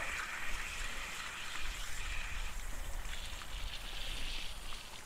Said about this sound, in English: it should push water out of the other end of the hose